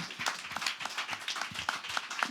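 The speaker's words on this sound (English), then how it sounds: "Let's give a round of applause for that." Applause from a small audience at an anti-racist action evening event, with scattered individual claps that stand out in an uneven rhythm. It sounds fairly faint and thin rather than a dense roar, with no talking over it.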